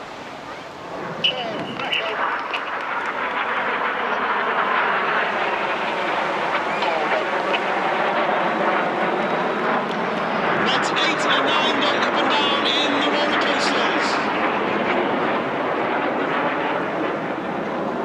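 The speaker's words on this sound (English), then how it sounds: "Each aircraft will now dive down to approximately 100 feet over the sea." Aerobatic display jets dive low over the sea at a coastal airshow, a loud continuous roar swelling and fading across the full span beneath a public-address commentary voice.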